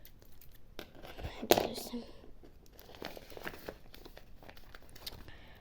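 Crinkling and a sharp ripping of packing tape from a cardboard box, followed by softer rustling and handling noises, with quiet voices nearby.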